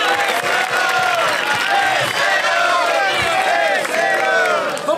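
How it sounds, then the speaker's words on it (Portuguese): A crowd at a Brazilian freestyle rap battle, Batalha da Aldeia, cheers and claps loudly, with shouting voices rising and falling over a constant wall of noise. "As palmas de geral, as palmas de geral."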